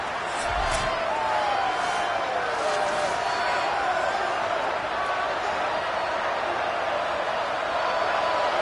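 A stadium crowd in a football video game roars as one steady, dense wall of noise that holds at the same level throughout and never fades.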